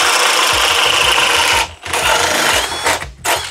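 Ridgid high-torque cordless hammer drill on a 4 amp-hour battery boring through with a large bit, a loud, close, grinding motor whine that bogs and briefly stops, then surges again in short bursts.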